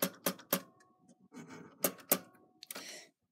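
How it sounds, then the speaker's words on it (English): A manual typewriter clacks under steady typing, with sharp key strikes coming in quick irregular clusters and short pauses between them, close and fairly quiet. "So, it's a typewriter."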